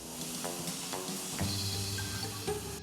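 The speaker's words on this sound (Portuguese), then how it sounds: "Coloca manteiga na frigideira e o hambúrguer de planta vai ganhando cor." A plant-based burger fries in butter in a pan, giving a soft, steady sizzle with light stirring and scraping sounds, fairly quiet and close, with no talking.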